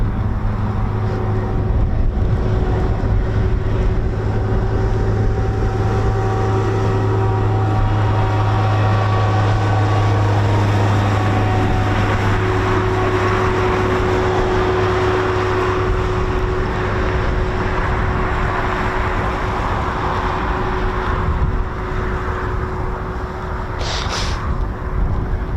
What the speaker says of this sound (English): We've got another Typhoon taxiing out from the south side of the base